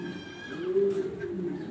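A black Danish exhibition pigeon coos in a low, rolling burr that swells near the middle, close and fairly loud, with faint background chatter around it.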